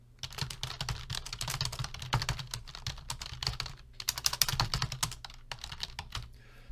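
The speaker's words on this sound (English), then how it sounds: "You can either hand type the information," Rapid, close-up typing on a computer keyboard, a steady patter of key clicks with a brief pause midway, heard alone without talk.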